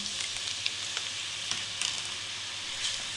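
Finely chopped onions fry in cooking oil in a pan over a medium flame for beef haleem, giving a steady, even sizzle with faint crackles throughout and no voices.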